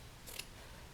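A single quick snip of scissors trimming excess red fabric while sewing a pencil roll, a short bright burst over a quiet background.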